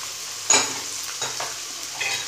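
Cumin, garlic paste and crushed ginger sizzle quietly in hot oil for a chicken karahi while a spoon scrapes and stirs through the pan in a few soft strokes, one sharp clink near the start, and no talking.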